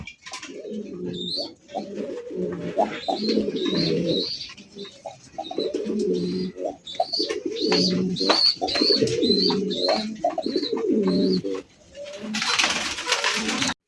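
Several India Lotan pigeons coo repeatedly nearby in low, throaty, rolling calls, overlapping one another, with a brief rustle near the end.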